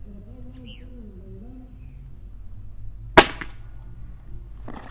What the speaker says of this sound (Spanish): vamos a hacer otro disparo